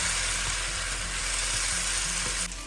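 Chopped tomatoes fry in a pan for a Goan prawn curry, giving a dense, even hiss of sizzling up close that drops off slightly near the end, with no talking.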